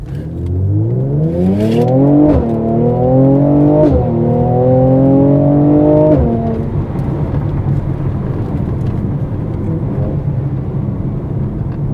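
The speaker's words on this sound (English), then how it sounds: "Listen to that exhaust." Mercedes SL55 AMG exhaust roars loud and close through repeated rising accelerations, with pitch climbing and dropping at gear shifts before settling into a steady engine drone.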